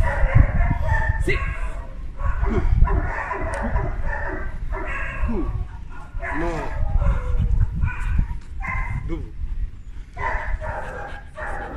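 A dog whimpers and lets out repeated high yips, the whines rising and falling in a fairly steady run over constant low background rumble, close and clear with no talk.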